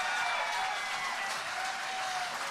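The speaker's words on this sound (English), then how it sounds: "How about a nice round of applause?" A dense, steady round of audience applause for an orchestra at a singing show. The clapping stays fairly distant and even throughout, with no voices over it.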